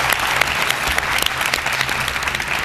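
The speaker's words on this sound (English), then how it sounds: "Round of applause to Leader 5." Audience in a leadership contest show applauds a winning contestant, dense, even clapping from many hands that stays loud and steady throughout, close and with no talking over it.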